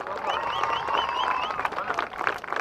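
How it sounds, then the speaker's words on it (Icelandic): A concert audience claps and cheers for a guitarist, a steady crowd roar with whoops mixed in and voices heard over the top. "gefum hann gott klapp"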